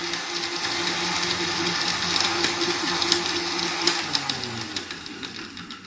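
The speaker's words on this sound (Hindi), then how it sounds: "और बेसिकली इसको आप ब्लेंड करें।" A blender whirs steadily, churning an aloe vera drink made with frozen coconut milk, a dense motor hum with rattling, gritty texture throughout, close and alone.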